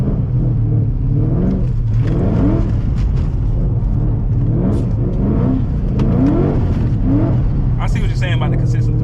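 A 700HP Ford Mustang drifting donuts, its engine revving loud and close in repeated rising surges as the throttle is worked, with people talking over it.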